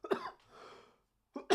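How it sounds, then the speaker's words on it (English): A person coughs during a live talk, with a sharp cough at the start and another at the end, separated by a soft breathy pause, close and fairly loud, with no speech. "my apologies for coughing in your ear holes again"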